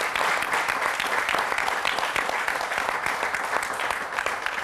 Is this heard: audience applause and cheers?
yes